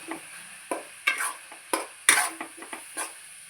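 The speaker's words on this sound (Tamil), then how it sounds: "அப்படியே எண்ணெயிலே வதங்கினாதான் நல்லாயிருக்கும்." Ground masala and coriander powder sautéing in oil in a pan for fish curry, with a soft sizzle under repeated sharp scrapes and clinks of a spoon stirring against the pan.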